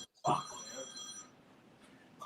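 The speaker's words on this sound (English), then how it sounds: "Let me stop this phone." A telephone rings in a chopper shop, one sharp bright ring burst up close that fades into a hum, with a brief trill near the end.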